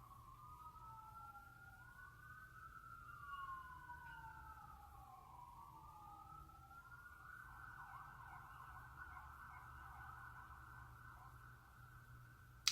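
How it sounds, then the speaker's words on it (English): Sirens wail in the distance, two overlapping rising and falling tones giving way to a steadier warble, faint over a low background rumble. "I hear sirens"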